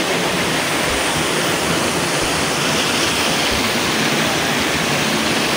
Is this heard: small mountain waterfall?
yes